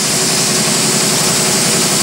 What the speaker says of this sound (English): let me go turn off the air compressor.